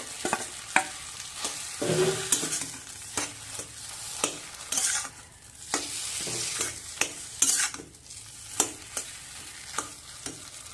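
Boiled mashed potatoes are stirred into fried spice masala in a pan for aloo kachori filling, with a soft sizzle under repeated sharp scraping strokes of a spatula at an uneven rhythm, close and clear, with no talking.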